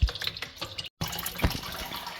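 Water drains through a push-down sink plug with a continuous close gurgling wash, broken by a brief gap and a small splash.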